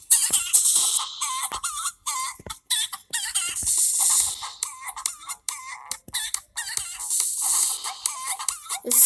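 Video-game chickens cluck and crow in rapid repeated bursts, loud and close, filling the whole stretch with choppy fowl calls and no talk.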